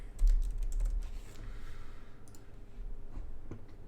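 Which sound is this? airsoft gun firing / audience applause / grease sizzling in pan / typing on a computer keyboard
typing on a computer keyboard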